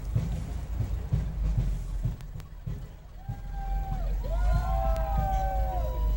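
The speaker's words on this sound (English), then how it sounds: "Old fire engine." A 1953 fire engine from Westerly, Rhode Island rolls past in a St. Patrick's Day parade, its engine rumbling close and loud while a siren wails and sweeps near the end, with crowd and street noise around.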